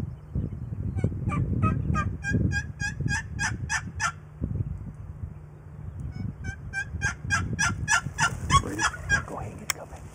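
Wild turkey gobbling during a turkey hunt, repeated rattling gobble bursts at moderate distance in two main bouts, over a steady low outdoor rumble with faint rustling nearby.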